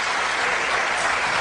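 Congregation applause during a church sermon: a steady wash of clapping that holds evenly for the whole stretch, fairly close and full, with no clear voices over it.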